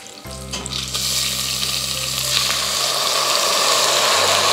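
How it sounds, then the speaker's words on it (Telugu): Soaked, drained basmati rice hits a hot pan of oil with cumin and green chilies for jeera rice, setting off a loud, steady sizzle that swells after a brief low thump and carries on unbroken to the end. "ఇప్పుడు దీంట్లో మనం కడిగి నానబెట్టుకున్న బాస్మతి రైస్ వేసుకోవాలి."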